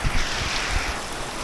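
Floodwater flows steadily through a flooded neighborhood, a continuous broadband rush with some wind noise on the microphone, close and fairly loud throughout the short moment.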